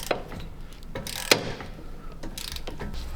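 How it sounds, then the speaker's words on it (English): Ratchet driving extension bars to loosen the rear bolts of a brake caliper on a BMW F30 during an M-Performance brake upgrade, with a few close, crisp clicking bursts and one sharp metallic knock, no talk. "So just going to start unbolting the back of the caliper. You need quite a few extensions to get into this"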